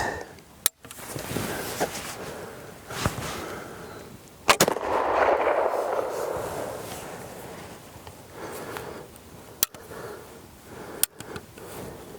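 A Kibler flintlock fowler fires a squirrel-hunting load outdoors: one loud, sharp blast with a rolling, decaying rumble, set among a few other sharp clicks and knocks, with no voices.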